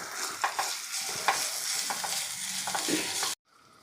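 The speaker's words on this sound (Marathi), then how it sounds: "आता यामध्ये आलं आणि मिरची हे परतून घेतलेलं आहे" Finely chopped green chili and grated ginger sautéing in hot oil in a pan, a loud, close, continuous sizzle with occasional scraping stirs, cutting off abruptly near the end.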